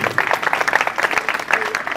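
An audience claps for a family at a school retirement function, with dense, uneven applause running throughout and voices mixed in beneath it.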